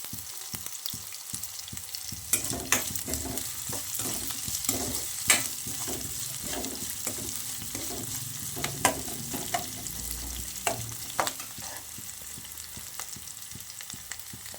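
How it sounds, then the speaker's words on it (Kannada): Onions fry in a pan for a spicy chicken dry dish. A constant sizzle runs beneath repeated spatula taps and scrapes, close up and with no talking. "ಇವಾಗ ಈರುಳ್ಳಿ ಫ್ರೈ ಆಗ್ತಿದ್ದೆ"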